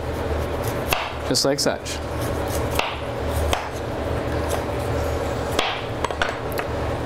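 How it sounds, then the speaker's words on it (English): A knife shaving and cutting celeriac on a board, a few sharp chops and scraping strokes at irregular intervals under steady explanatory talk. "you can get a slightly smaller knife, start shaving along the outside"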